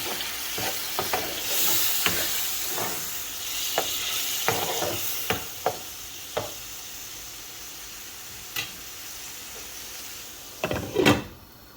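Spice paste and onions fried and stirred in a pan for an eggplant and dried fish curry: soft steady frying under repeated sharp spatula scrapes, with a louder burst of scraping near the end.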